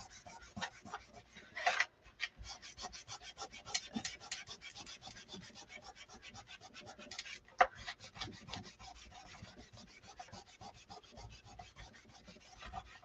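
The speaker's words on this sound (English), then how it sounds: "flip your applicator over to the microfiber side, and then you use that side to kind of buff it" A microfiber applicator buffs chalk paste on a surface, making a faint, continuous rapid rubbing and scrubbing with a few slightly louder strokes, close and quiet with no voice.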